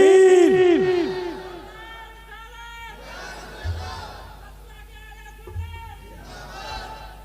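At a religious sermon gathering, a large crowd answers the Nara-e-Takbir call by chanting Allahu Akbar in loud, rolling bursts of many voices that rise and fade several times, with a lone voice in between.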